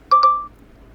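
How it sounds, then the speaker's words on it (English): A TECNO Spark 20 Pro Plus camera timer gives two quick, close electronic beeps in succession, the second trailing into a short fading tone, then near silence. "our device will count down from 10, 5 or 3, depending on which option you've chosen, and after that time it will take a photo"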